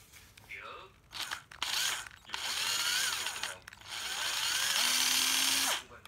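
A used Ryobi 9.6V cordless drill whirs up in several short bursts of motor speed changes, close and fairly loud, separated by brief pauses and handling clicks.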